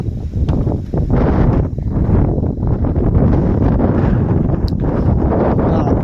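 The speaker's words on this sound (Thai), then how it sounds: "จะลมๆหน่อยเนาะ" Gusty wind buffets the microphone at a mountain viewpoint near Chiang Mai, a steady loud rushing roar that persists for the whole stretch with no other sound standing out.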